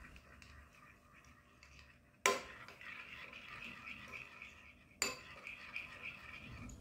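A utensil stirring hot cream into 100 g of chopped chocolate in a bowl, with two sharp clinks against the bowl and soft scraping in between, quiet and close, with no talk.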